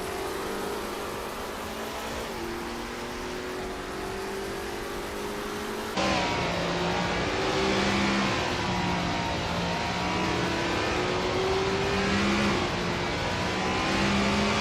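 A 1966 Shelby GT350 races with other cars in a video game, its engine droning and revving steadily throughout, with the pitch rising and falling as it shifts and accelerates, growing slightly louder partway through.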